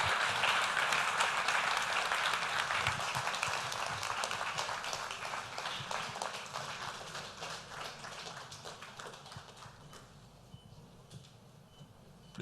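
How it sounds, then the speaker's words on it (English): An audience at a business lunch in Lagos breaks into sustained applause, dense clapping that is loud at first and slowly thins out over about twelve seconds. "another resounding round of applause to Mr. Governor"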